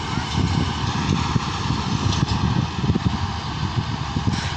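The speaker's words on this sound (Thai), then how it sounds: "รถตัดอ้อยครับ โอเคบายได้ กำลังนะครับ ตอนนี้กำลังถอยหลังนะครับ" A sugarcane harvester's heavy engine rumbles steadily at medium distance as it reverses, with some irregular clanking and knocking, and no talk.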